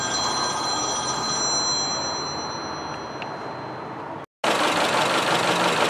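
A Honda Civic engine idles with a misfire on cylinder 2, making a steady close rumble with high ringing tones, then a brief dropout followed by a louder, fuller idle.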